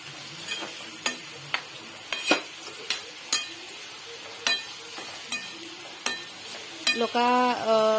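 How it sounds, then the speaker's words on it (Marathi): A zunka mixture of kulith flour with chilli and curry leaves stir-fried in a pan: repeated sharp spatula scrapes and taps roughly every second over a low sizzle, close up, with no talking. "मिश्रण चांगला गरम होईपर्यंत परतायचं"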